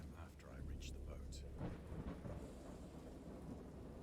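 Thunder rolls and rumbles through a great storm, a deep, sustained low boom over steady falling rain, with a few brief sharper cracks early on.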